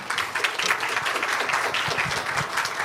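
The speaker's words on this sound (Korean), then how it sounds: "크게 한번 박수로 우리 환영해 주세요" Warm applause from a church congregation at a Sunday service welcoming a teenage speaker, moderately loud with individual claps audible in the roomy, steady patter.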